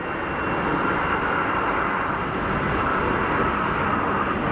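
Airbus A320 airliner taking off at Geneva Airport on a hot summer day, a loud, steady jet-engine roar filling the whole moment without any talk.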